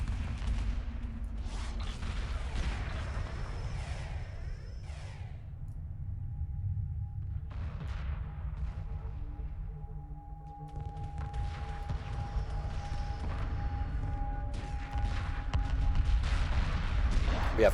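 Space battle weapons fire in Homeworld Remastered, with ion cannon frigates and torpedo frigates engaged in a large fleet fight: a dense, continuous rumble of booming shots and blasts, steady and loud throughout, with a voice talking now and then.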